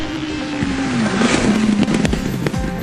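Loud, rough roar of a racing Mini powered by twin Yamaha R1 motorcycle engines, rising and falling pitch, crackling and popping over a steady drone, passing close by.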